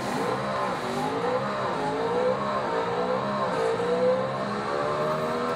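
A car engine revs and roars with shifting pitch in a played car-crash video, loud and continuous, rising and falling as it accelerates, with faint tire noise.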